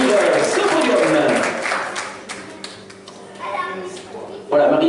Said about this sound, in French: je vous demande d'applaudir très fort à Maryse pour l'encourager à venir nous rejoindre sur ce podium